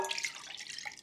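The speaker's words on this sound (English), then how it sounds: "To that, we are adding 3/4 cup of whole milk" Whole milk poured into a mixing bowl for banana crunch muffin batter, a steady close splashing pour lasting about a second, with no voices.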